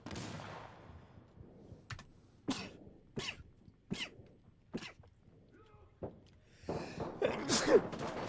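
A single sneeze bursts out during an Insurgency: Sandstorm firefight, close and sharp, set among a run of clicky keyboard taps and short noisy bursts with no talk over it.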